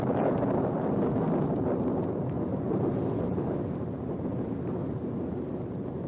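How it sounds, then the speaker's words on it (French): A dense, roaring rush of wind blows continuously and loudly, steady throughout with a heavy rumbling low end, like a storm gale. "voilà la tempête maintenant. Après le brouillard, le vent a tourné."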